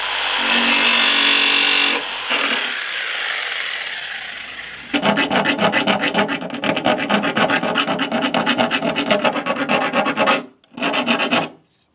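Hand file rasping back and forth in quick, steady strokes on a drilled half-circle cutout in a van door while fitting a deadlock, loud and close with a brief pause near the end, no talk.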